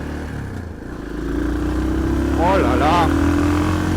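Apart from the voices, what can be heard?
motorcycle accelerating out of a roundabout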